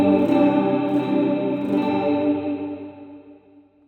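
Electric guitar chord through an M-VAVE Mini Universe reverb pedal set with gritty added gain, a slightly distorted strum ringing out in a lush reverb tail that fades away.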